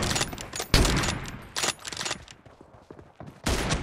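M24 sniper rifle shots ring out in a video game match, several sharp loud cracks spaced irregularly with echoing tails and faint footstep-like shuffles between them.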